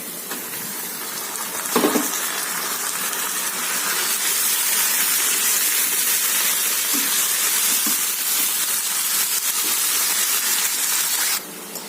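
Chicken pieces tipped onto sautéed onions in a pan for Chintamani chicken, a sharp thump and then a loud, steady hiss of frying that holds evenly for several seconds before cutting off.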